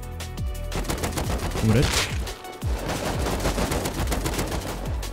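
Rapid bursts of AK rifle fire in the survival game Rust crack loudly and densely, nearly continuous across the clip, while a player's voice speaks over the shooting.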